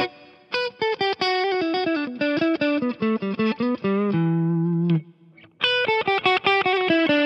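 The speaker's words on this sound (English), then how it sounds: "If you pull that, you get a single coil sound." An electric guitar, a Rick Turner Model 1 with its pickup split to single-coil, plays a quick run of bright, slightly driven notes, pauses on a sustained low note, then picks up again.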